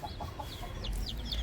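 Chickens and a rooster cluck softly nearby in a farmyard, with short repeated calls over a low background rumble.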